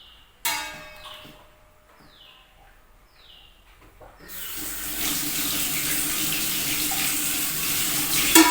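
A tap is turned on, and water runs steadily and loudly into a sink for mouth rinsing, after a few quiet knocks and faint bird calls.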